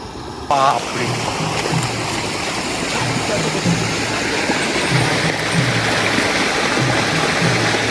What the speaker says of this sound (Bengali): আর এই জলটা আসছে পুরোপুরি বদরা ড্যাম থেকে বদরা ড্যামে জল ছেড়েছে